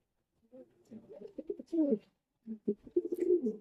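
A pair of fancy Danish pigeons coo close by in short, throaty, bubbling bursts, with a brief pause between two runs of calls against an otherwise quiet background.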